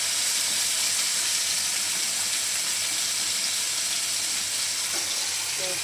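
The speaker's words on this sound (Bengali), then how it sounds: "একটু লাল লাল করে মাছটা ভেজে নেব" Kajal fish pieces frying in oil make a continuous bright sizzle that stays level and close for the whole stretch, with no voices over it.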